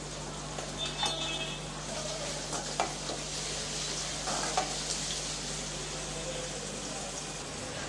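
Curry leaves crackling in hot oil while being stirred for vatha kuzhambu, a soft continuous sizzle with occasional spoon taps and a low hum underneath.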